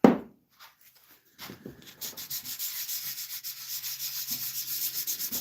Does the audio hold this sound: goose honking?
no